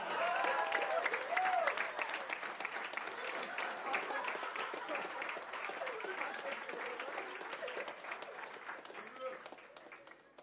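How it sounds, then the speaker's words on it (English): An audience at a swimming award ceremony claps for the young swimmers, dense sustained applause across the whole span that stays fairly even and then tapers slightly toward the end, with some crowd noise mixed in. "Can we have another round of applause for all these wonderful swimmers, ladies and gentlemen?"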